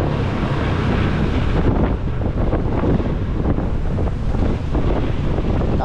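Strong wind buffeting the microphone at an outdoor viewpoint with motorcycle riders, a loud, continuous roaring rumble that dominates throughout with no clear speech.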